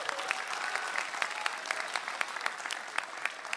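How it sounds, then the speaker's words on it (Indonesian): A stand-up comedy audience breaks into steady applause, dense clapping with a few sharper claps standing out, filling the room at an even level for a few seconds with no speech over it. "Tepuk tangan untuk kru film yang ada di Indonesia."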